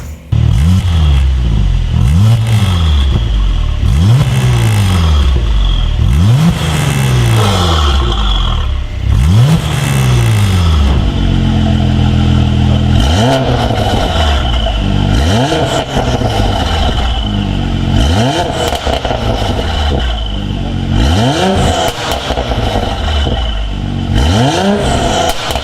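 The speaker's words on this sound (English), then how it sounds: "The new Armytrix exhaust is all installed and all wired up, so I think the thing we've all been waiting for is to find out exactly what this sounds like now." A Mercedes-AMG C43 fitted with an Armytrix exhaust revs loudly and up close in a series of repeated blips, each rising then falling back to a burbling idle, with no talk.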